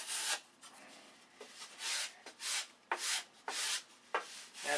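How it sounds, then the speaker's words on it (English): A wooden piece is sanded by hand with light pressure, strokes pushed from the center toward the edge. Rhythmic rasping sweeps repeat about once a second, close and fairly loud, with short pauses between strokes. "Now we're going to turn the piece and sand in the other direction."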